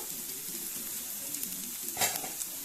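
Okra pieces sizzle steadily in a frying pan as salt is stirred in, with a soft continuous crackle and one brief louder scrape of the spoon partway through.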